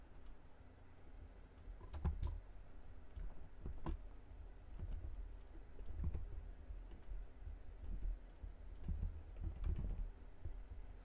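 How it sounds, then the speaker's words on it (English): Typing on a computer keyboard, one-handed and uneven, with irregular bursts of soft key clicks close by and no talking. "Always have these troubles typing."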